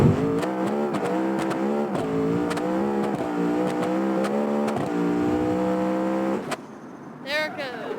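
Car engine in BeamNG.drive revving hard with steady rising and falling harmonic whine, loud and close, with brief gear-like interruptions before cutting out abruptly near the end, followed by a short electronic squeal.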